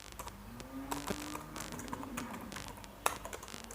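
Rapid keystrokes on a computer keyboard while typing a line in an Open Office document, a quiet, close run of light irregular clicks with one sharper tap near the end.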